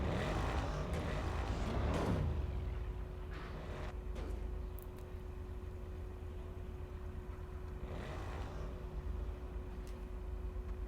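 A GTA car engine revs loudly at first, then settles into a steady low hum with a constant tone, a few faint swells rising later.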